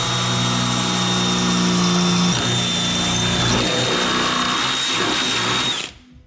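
A power drill bores into a zinc-coated bolt during work on a Mustang project car, a steady whining motor drone held close for several seconds before it cuts off abruptly.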